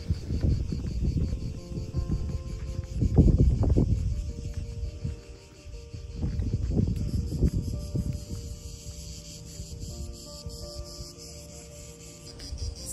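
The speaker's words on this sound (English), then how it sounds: "I don't know if you can hear the cicadas that are behind me." A continuous high drone of cicadas fills the background outdoors on the Greek island of Zakynthos, steady and fairly loud, with some low rumbling and handling noise underneath.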